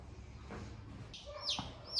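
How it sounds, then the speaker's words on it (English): A farm chicken clucks a few times in short, scratchy bursts over a noisy outdoor background, moderately close and fairly quiet. "I got my chicken here from the farm"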